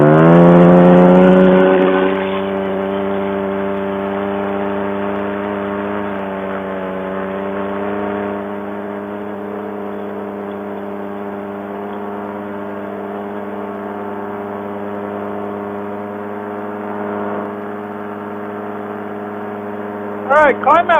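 Light aircraft engine running at about 7,100 RPM during takeoff and climb-out: a loud, steady, buzzing drone that eases slightly in pitch after the first couple of seconds and then holds almost constant, close and continuous.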